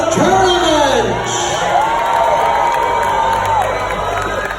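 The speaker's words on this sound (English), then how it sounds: "Raise a cheer for Queens of the Tournament!" A large audience at a medieval tournament show erupts in loud cheering, with rising whoops and shouts from many voices, some children's, all blending into a continuous roar for several seconds.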